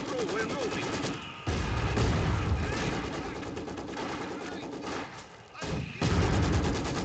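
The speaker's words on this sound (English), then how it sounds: "Target light artillery barrage!" Dense rumbling artillery barrage in the strategy video game Company of Heroes 2, with overlapping booms, gunfire crackle and explosions filling the mix, briefly dipping twice, and game voices faintly mixed in.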